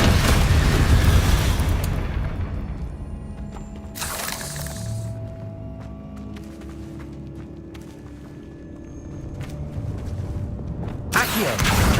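Fiery Confringo spell blasts in the Hogwarts Legacy video game burst out as loud booms and shattering crashes, one at the start, another around the middle and a final one at the end, with rumbling debris between.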